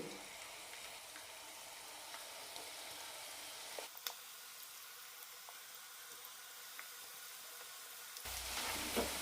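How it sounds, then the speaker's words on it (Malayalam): Peanuts coated in gram flour deep fry in hot oil as masala peanuts, a faint, steady bubbling sizzle with occasional soft pops, growing louder and brighter in the final second. "കടല അഞ്ചോ ആറോ മിനിറ്റ് കൊണ്ട് ഫ്രൈ ആയി കിട്ടും"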